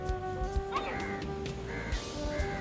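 A crow caws several times from a coconut tree in a coastal village near Cochin, harsh repeated calls at moderate distance over a steady background.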